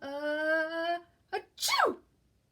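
A single cartoon-style sneeze from a character, a drawn-out rising tone followed by a sharp, breathy burst, loud and close with no other sound around it.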